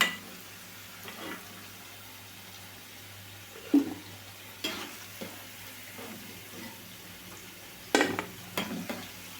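Pieces of amla gooseberry fry in a pan for pickle, with a soft continuous sizzle broken by occasional louder stirring scrapes and clinks, quiet and near.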